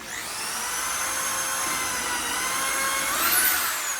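A drill whines steadily while boring a hole into a furniture niche panel, a high tonal buzz that holds level for a few seconds and rises slightly near the end, close and fairly quiet, with no talk.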